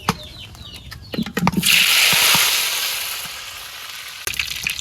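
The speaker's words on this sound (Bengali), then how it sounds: "এই কড়াইতে আগে ডিম ভাজছে নেই" Eggs frying in hot oil in a wok: a few clinks and knocks, then a loud, close sizzle bursts up and slowly fades, with more utensil clatter near the end.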